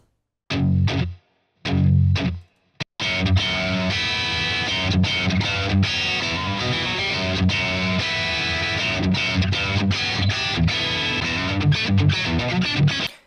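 Harsh, heavily distorted electric guitars chug a rhythm part; two short bursts with pauses, then a sustained aggressive riff played loud and close.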